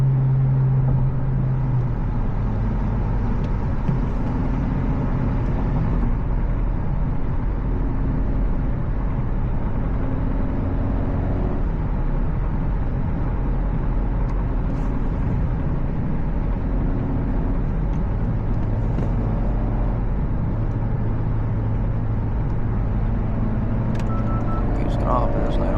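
An 11th gen Honda Civic Si fitted with a downpipe and tune accelerates hard on a busy highway, its engine a loud, continuous drone that climbs through the pull, heard from inside the car with someone talking.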